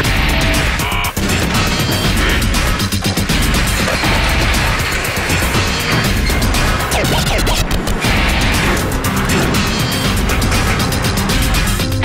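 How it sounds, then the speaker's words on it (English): A stamping press forms Ford Mustang body parts in a factory, and loud, continuous industrial clatter fills the space with heavy bangs and metallic crashes throughout. "Stamping those parts is the first step in making an unmistakable Mustang."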